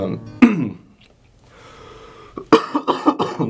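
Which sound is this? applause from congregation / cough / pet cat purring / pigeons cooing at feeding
cough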